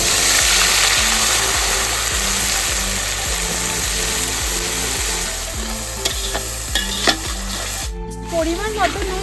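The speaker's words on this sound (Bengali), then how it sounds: "এবার আমি পেঁয়াজ বাটাটা দিয়ে নিচ্ছি" Onion paste dropped into hot oil with spices for a Bengali bhetki fish korma, giving a loud, steady sizzle that fills the clip, with rhythmic stirring scrapes and clinks toward the end.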